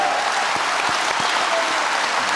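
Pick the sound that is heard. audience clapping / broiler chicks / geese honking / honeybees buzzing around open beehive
audience clapping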